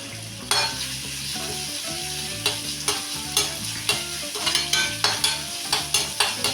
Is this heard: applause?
no